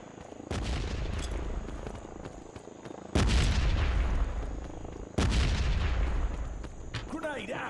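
Three loud grenade explosions in the mobile shooter Modern Ops, each a sudden booming crack with a long rumbling decay, spaced a couple of seconds apart, with a brief voice near the end.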